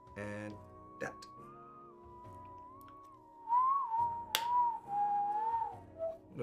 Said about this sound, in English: What a nice whistle.